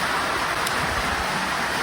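A sun shower of large raindrops falls outdoors beside a vehicle being fitted with a winch, a steady broadband patter with one brief sharper drop hit, close and continuous with no talk.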